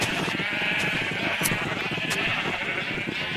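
Sheep bleat repeatedly in a Minecraft game, loose animals roaming, with several overlapping bleats running steadily through the whole stretch over a busy game background.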